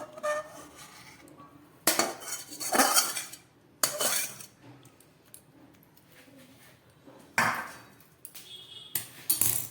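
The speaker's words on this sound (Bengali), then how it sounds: "রান্না করলাম মাশরুম" Pots and metal utensils clang and scrape while mushrooms cook, loud bursts of stirring and clattering separated by quieter gaps, close by.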